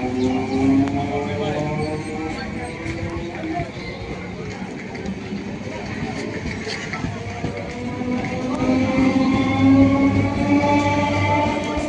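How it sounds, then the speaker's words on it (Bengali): A train pulls away from a station platform with a steady, close rumble and droning tonal whines that swell louder toward the end, while faint crowd chatter murmurs in the background. "ট্রেনটা প্ল্যাটফর্ম ছেড়ে চলে যাচ্ছে"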